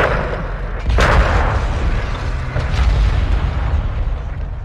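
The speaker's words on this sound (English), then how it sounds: "RPG!" An RPG rocket blast in Call of Duty Modern Warfare 2 lands as a loud, close boom and then rolls into a long, rumbling roar amid continuous battle noise.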